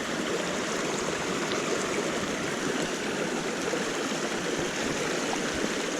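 Steady, full-bodied rush of a Dartmoor stream flowing over stones, continuous and close with an even, unbroken hiss and no voices.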